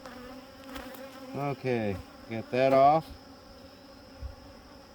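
Honeybees buzz around an opened hive being tended, a steady close drone with a person briefly speaking over it.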